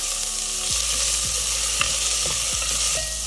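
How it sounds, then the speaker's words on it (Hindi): Cumin seeds and onion fry in hot oil for rajma khichdi, a loud, steady sizzle with a few stirring clinks and scrapes close by. "इसके अंदर हम डालेंगे सबसे पहले जीरा, नेक्स्ट प्याज"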